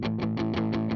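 A muted guitar power chord sample through a distorted amp tone chugs in six quick, palm-muted hits, thick and gritty, repeating evenly for about a second with no voice.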